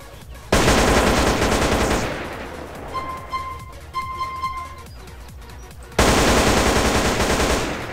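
An M4 rifle fires in GTA San Andreas in long dense automatic bursts, loud and close, with a break in the middle where a few beeping game tones sound before the firing resumes.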